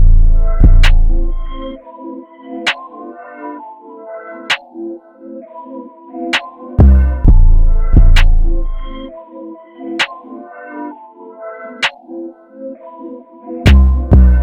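Deep booming 808 bass hits come in a few spaced bursts, long sustained thumps under a melodic beat with crisp snapping percussion.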